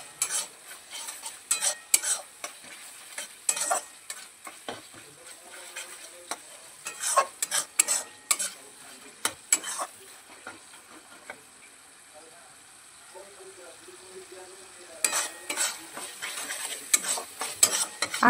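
Spice paste cooks in hot oil in a pan while a metal spoon stirs and scrapes it in repeated bursts, with a soft frying crackle underneath and pauses between strokes.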